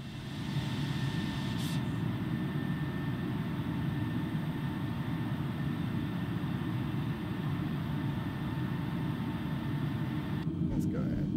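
Cessna engine drone in a flight simulator, a steady, even broadband hum with a faint tonal whine running unchanged throughout, with a brief click near the start and a short break near the end.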